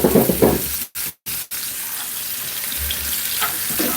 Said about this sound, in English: I'm just getting the onion and the garlic cooked through a bit